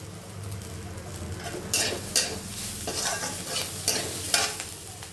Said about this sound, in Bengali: মিক্স করে এটাকে ভাজি ভাজবো কিছুক্ষণের জন্য